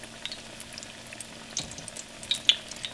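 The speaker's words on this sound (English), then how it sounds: "And then it's going to go in this hot grease." Thick fish pieces frying in hot grease, a soft, steady sizzle and bubbling with scattered crackles and pops, close up.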